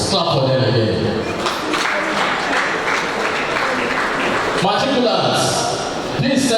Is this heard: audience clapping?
yes